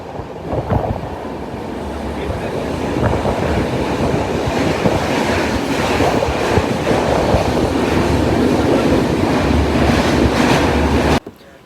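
A train heading to Mumbai rolls along with a steady rumble and rhythmic clatter of wheels on the rails, loud and continuous until it cuts off abruptly.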